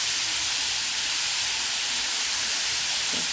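Chopped onion roasting with salt in a hot pan for onion chutney: a loud, continuous, even sizzling hiss held throughout, close up, with no voices.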